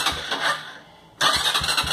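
A 200cc motorcycle engine cranks, sputters briefly, falls quiet, then catches again with a steady, rough mid-pitched running sound, close by.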